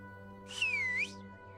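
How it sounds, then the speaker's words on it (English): A single loud, shrill whistle in the HumanitZ video game sweeps downward then rises again over about half a second, sharp against a low steady electronic hum, with no talking. "That's a pretty loud whistle."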